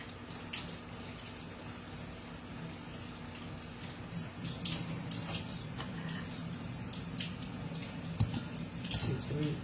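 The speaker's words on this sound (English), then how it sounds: "Rinse them off." Tap water runs steadily at close range while grapes are rinsed under it, a continuous hiss with faint splashing; a voice talks quietly now and then over the flow.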